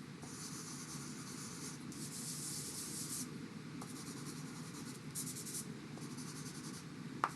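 A crayon or pastel is rubbed in soft, repeated strokes to shade a drawn cloud in peach, a quiet close scratchy swishing in bursts over a steady background hum, with no talk.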